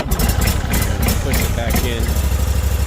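A Baretto 30SG stump grinder's 31 hp Vanguard gas engine idles close by, a steady throbbing chug warming up while a person talks over it.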